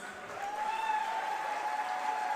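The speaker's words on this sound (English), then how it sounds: "let's have the loudest round of applause" Applause from a large audience in Pune welcoming Sadhguru, a dense wash of clapping swelling in and holding steady, with a faint tone ringing underneath.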